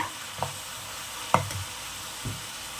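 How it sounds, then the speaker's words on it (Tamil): Tomatoes and onions sauté in a pan for a prawn fry, giving a low steady sizzle with a few soft stirring scrapes spread across the stretch and no talking. "டொமேட்டோ வந்து நல்லா கிரேவி பதத்துக்கு வதக்கிக்கோங்க"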